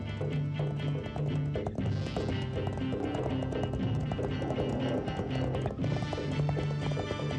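Horses with a royal army gallop steadily, rhythmic clip-clop hoofbeats repeating fast and loud under a dense, busy backdrop of other sound.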